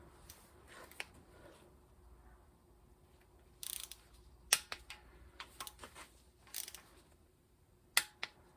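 A click-type torque wrench is set to 22 inch-pounds for the cylinder head bolts of a 1951 Buick Special straight-eight. A few sharp, sparse clicks and ratcheting snaps sound up close in a quiet room, separated by pauses.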